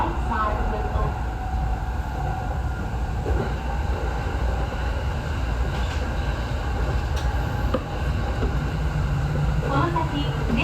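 A Rinkai Line 70-000 series train runs on the Saikyo Line in heavy rain as a typhoon approaches, heard from on board. A continuous rumble of wheels and motor lasts throughout, with a few faint clicks and a steady background hiss.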